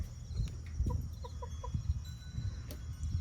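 Hens cluck softly in a coop with fresh nesting material and herbs, a few short close clucks in a quick run over low rustling background.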